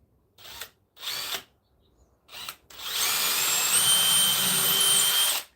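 A power drill gives a few short bursts, then spins continuously for several seconds, whining steadily as it pre-drills holes into 2x4 lumber before stopping.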